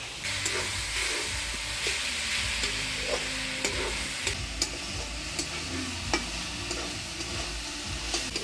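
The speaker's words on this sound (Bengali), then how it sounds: "এইভাবে আরেকটু নাড়াচাড়া করে নামিয়ে নিব।" Water spinach frying in a pan, stirred with steady scraping and a continuous close sizzle, with occasional sharp clinks of the utensil against the pan.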